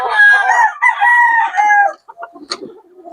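A gamefowl rooster in its coop lets out a loud, close crow in several drawn-out rising and falling notes, followed by a few softer clucks and scattered rustling.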